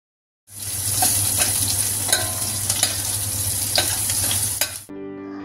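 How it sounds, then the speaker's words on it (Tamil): Mustard seeds, fenugreek, dried chillies, crushed ginger and garlic fry in hot oil with a steady, close sizzle and occasional light stirring taps, no voices, ending abruptly. "இப்போ நம்ம சேர்த்துக்கிற இன்க்ரீடியன்ஸ் எல்லாம் ஆயிலில் நல்லா ஃப்ரை ஆகட்டும்."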